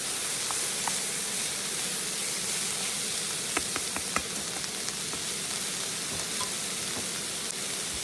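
Chorizo sausage and onions sizzle steadily in a camping pan, a continuous close frying hiss with a few small crackles and pops partway through, no talk.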